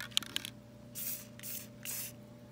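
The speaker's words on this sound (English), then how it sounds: "I'm doing a fine job of spraying the cardboard" Chalk paint sprays onto cardboard in three short aerosol bursts, each a close, sharp hiss of about half a second, after a few light taps and clicks at the start.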